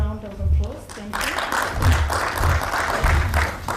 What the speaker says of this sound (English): If you could just give her another round of applause.